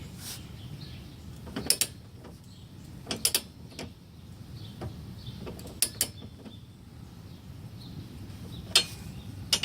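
A torque wrench tightens U-bolt nuts on a trailer hitch under a 2013-2017 Mitsubishi Mirage, giving faint, intermittent metallic clicks and creaks with a low background hum.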